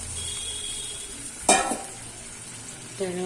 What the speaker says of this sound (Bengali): ট্যাংরা মাছ ভাজা হয়ে গেছে।